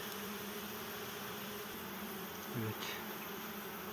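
Steady buzzing from many honey bees at a hive, a continuous drone with a brief louder pass partway through.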